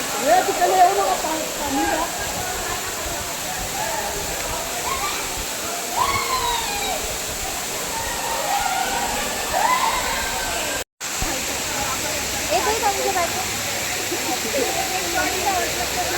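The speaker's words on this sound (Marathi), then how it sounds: "किती सुंदर पाणी पडते बघा वरून." A continuous rushing roar of a waterfall near the Kondhana Caves at Karjat fills the scene, steady and broad, with a voice speaking faintly over it.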